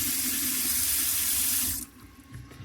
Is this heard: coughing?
no